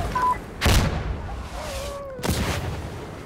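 Gunfire in the tactical shooter Insurgency Sandstorm: two sharp broadband bursts, the first loud and the second a little softer, with quiet game ambience and faint tones between them.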